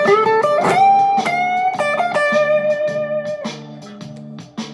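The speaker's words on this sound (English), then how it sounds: "we are going to dive into some quick, quite classic kind of blues licks" Electric guitar playing classic blues licks and string bends in D, a short run of sustained bent notes and picked phrases over repeated chord stabs, clear and close with no talking.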